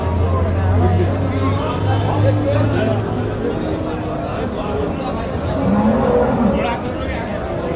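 Friesian and Jersey cows at a busy cattle market, with low moos rising over a constant crowd babble and people talking nearby.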